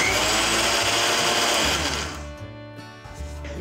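A kitchen mixer grinder whirs loudly as it grinds roasted chillies and salt for a Konkani raw mango garlic chutney, then winds down after about two seconds, leaving quieter rattling.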